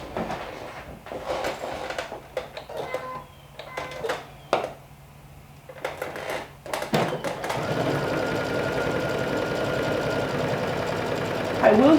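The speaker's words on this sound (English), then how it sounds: "for this part I prefer the sewing machine" Scattered clicks and handling noises give way to a sewing machine running steadily and close by, its fast continuous whir stitching without pause.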